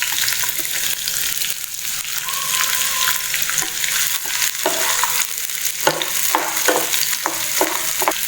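Onions fry in oil with fennel seeds, a loud, steady sizzle broken by frequent clattering strokes of a spoon stirring in the pan, busier toward the end.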